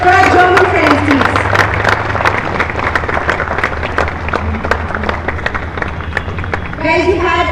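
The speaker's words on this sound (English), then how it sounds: "Can we have a huge round of applause for our German friends, please?" Applause rises from the crowd at the Delhi Open tennis tournament in New Delhi for two German players, a steady dense patter of clapping that holds for several seconds under a low hum, with some voices at the end.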